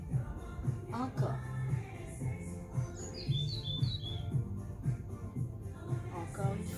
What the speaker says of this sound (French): On entend les petits oiseaux, c'est magnifique